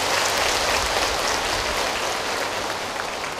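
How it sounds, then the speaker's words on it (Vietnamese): Sustained audience applause at a Buddhist dharma talk event, dense and even throughout like steady rain, fairly loud with no voices over it. "xin quý vị hãy cho một tràng pháo tay thật lớn"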